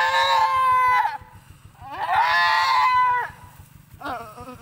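A goat that has just given birth gives three loud, drawn-out bleats close by, the first two long and strained, the last shorter, with a faint steady low hum beneath.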